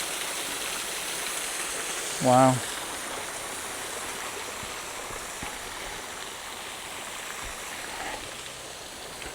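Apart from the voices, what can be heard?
water flowing over Knypersley Reservoir overflow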